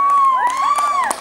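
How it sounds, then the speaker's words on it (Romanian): Children at a summer camp game in Valea Lotrului cheer and whoop together in a loud, close burst that fades toward the end. "Aplaudați și pe colegul nostru."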